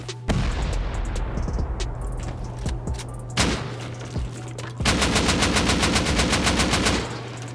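Rapid automatic fire with explosive ammunition rattles during a Rust video game raid, bursts of loud cracks and booms with short pauses, ending in a long sustained volley.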